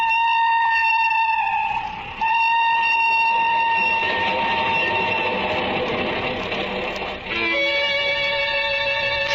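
Train travelling as a radio drama sound effect: a steady loud mechanical rumble with sustained whistle-like tones running throughout, briefly dipping twice, with no voices.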